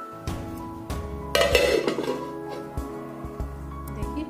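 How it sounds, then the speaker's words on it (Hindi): A dish is covered with a lid while cooking sweet potato pua, giving a scrape and a ringing clatter of metal pots and utensils, then a few lighter clinks, close and moderately loud. "हम इसको ढक दे रहे हैं।"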